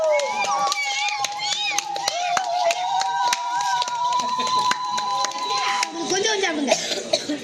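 Children in Thanjavur, Tamil Nadu, ululate in high, warbling kulavai trills and clap in irregular bursts as Pongal boils over in a small clay pot, loud and close throughout.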